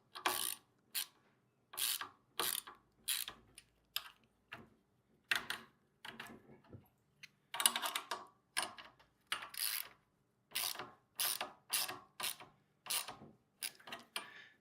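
A hand ratchet tightens a bolt on a VEVOR 2.8HP 78.5cc gas plate compactor, giving repeated bursts of close, crisp clicking in quick rhythmic strokes with short pauses between them.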